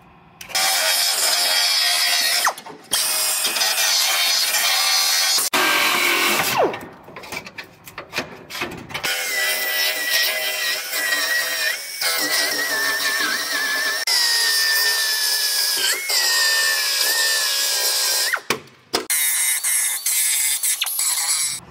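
A damaged aluminum truck bedside panel is cut out in a body shop, producing a sustained harsh grinding and sawing noise with short pauses, close and loud.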